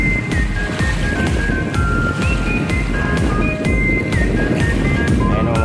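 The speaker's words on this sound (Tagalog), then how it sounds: "hampas ng alon." Waves wash continuously onto the white dolomite sand beach on Manila Bay, with a steady roar of surf and faint high whistling tones above it.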